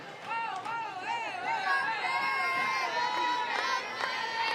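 Crowd of just over 1,000 at a college baseball game at McCombs, Texas versus Iowa State, a lively murmur of chatter and scattered shouts, with excited voices rising and falling over the steady hubbub.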